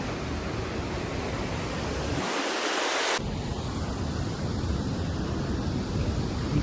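Floodwater rushes and overflows through opened gates in eastern Sri Lanka, heard as a steady broadband roar of moving water mixed with wind on the microphone, briefly muffled for about a second.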